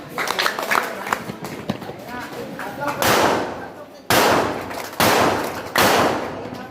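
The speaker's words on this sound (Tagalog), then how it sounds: "magbulay kayo ng dalawang palakpak at dalawang dadyak" A group at a marksmanship training session in Santa Maria, Bulacan claps twice and stomps twice in unison, producing loud, sharp, evenly spaced bursts after a stretch of talking.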